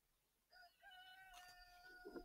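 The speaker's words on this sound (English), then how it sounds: "Sounds like a chicken." A video game chicken clucks in a short run of tonal squawks that starts after a quiet half-second and builds louder toward the end, with no talk over it.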